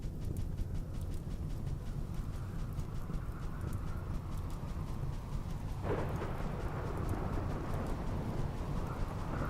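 Rain and thunder from the video game Rimworld: a steady, dense wash of rainfall with low rumbling underneath, and a sharper crack of thunder swelling about two-thirds of the way through, with no voices.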